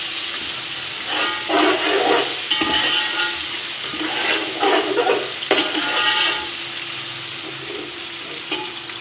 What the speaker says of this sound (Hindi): अब हम इसमें लहसुन अदरक का पेस्ट डाल देंगे